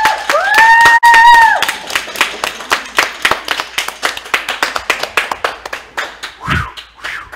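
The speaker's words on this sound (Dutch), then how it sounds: "Applaus." A studio audience claps at the close of a short Dutch show, a brief whistle-like tone opening into a run of sharp, uneven hand claps that thin out toward the end, finishing with a low thump.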